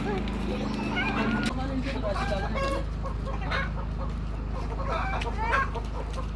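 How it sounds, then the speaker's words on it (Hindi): Chickens cluck intermittently while a person talks throughout, the bird sounds short and scattered against a constant low hum. "ये मुर्गी बीमार लग रही है"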